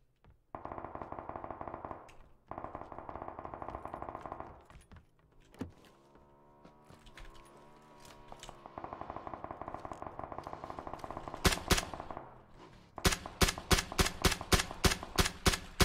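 Gunfire from DP and M4 rifles in PUBG, a loud crackling stream of automatic bursts with brief pauses, ending in a rapid series of sharp, evenly spaced shots.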